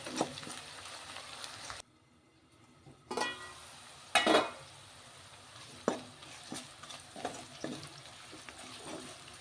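Onion frying with ginger, garlic and tomato paste for a drumstick and egg curry, a quiet sizzle with a short silent gap, then a series of spoon scrapes and clinks against the pan, close by with no talking.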